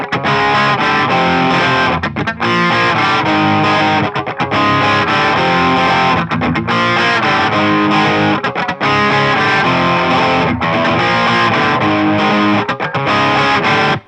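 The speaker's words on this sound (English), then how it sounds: "the chorus goes off and you're back into the huge distortion" Heavily distorted electric guitar chugs through a song's chorus, loud and sustained power chords with brief rhythmic gaps between phrases, played alone without vocals.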